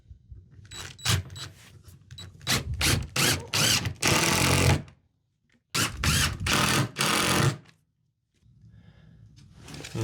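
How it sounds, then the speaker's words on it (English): A power drill drives screws into the plywood floor of a box van build: several short whirring bursts, then two longer sustained runs, close and loud with pauses between. "So I can confidently just go ahead and screw into my floor right here."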